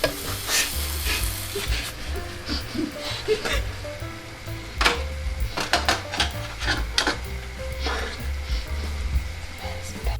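Margarine melting in a pot for a gluten-free lasagne sizzles steadily and close, with scraping stirring clicks and knocks of a utensil against the pot, and a person talking over it.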